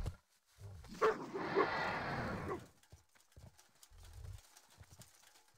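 A horse mount in World of Warcraft, a soft neighing call followed by a few faint hoof clip-clops, with quiet thumps and movement sounds around it.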